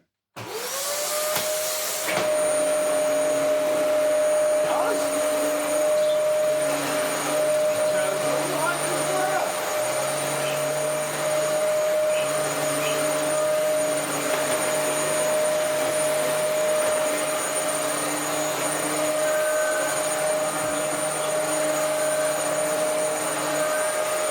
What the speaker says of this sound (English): we can actually vacuum the floor with this one